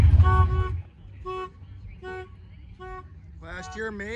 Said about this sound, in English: Whatever's for sale over here has a working auto alarm.